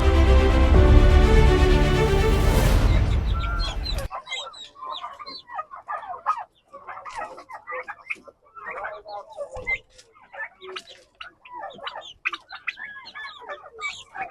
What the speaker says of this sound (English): And over here, I have some turkeys here.